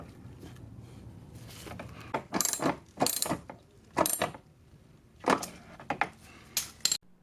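Metallic ratcheting clicks from a wrench driving a 10mm bolt back into a 1999 Acura RL fog light housing, coming in several short close bursts separated by pauses, with no talking.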